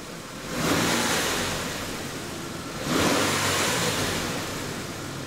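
An engine is revved twice, each a broad roaring surge that swells and slowly fades, with no talking.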